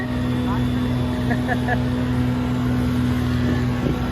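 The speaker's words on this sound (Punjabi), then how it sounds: "ਮੈਂ ਗੋਡਿਆਂ ਤੱਕ ਡੁੱਬ ਗਿਆ ਹਾਂ ਲੇਕਿਨ ਸਕੂਟਰ ਨਹੀਂ ਬੰਦ ਹੋਇਆ" A motor scooter engine drones steadily at close range with a low constant hum as it runs through knee-deep flood water in Gujarat, a faint washing churn of water around it.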